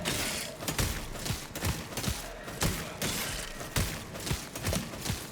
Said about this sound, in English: Just try and get behind him to avoid the gunfire.